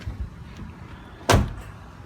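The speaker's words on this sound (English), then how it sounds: "Love the way the doors close in this car." A single solid thud of a 1988 Mercedes-Benz 560SL R107 roadster door shutting, short and heavy, after a moment of quiet background noise.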